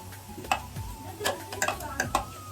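Peppers are stirred in a cooking pan with a spoon, giving a few scraping, clattering strokes over a low sizzle. The sounds are close and come in irregular bursts.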